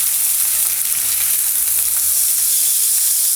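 Chicken frying in a pan, a loud dense sizzle that holds steady with no breaks and no voices.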